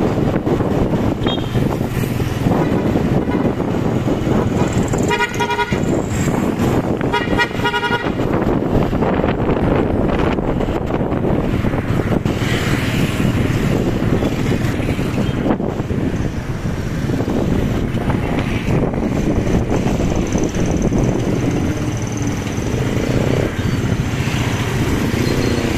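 A habal-habal motorcycle taxi rides along a national highway in Tagum City, its engine droning under heavy, constant wind rush buffeting the microphone, loud and close throughout.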